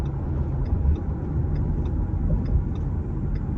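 A Ford Mustang S550 accelerating hard in traffic, a close, loud, continuous low engine rumble with faint rhythmic ticks above it and no talk.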